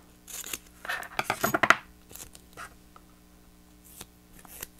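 Thick double-sided tape is ripped into a few pieces, giving a cluster of sharp tearing and crinkling bursts up close, followed by sparse faint clicks and handling noises in a quiet room.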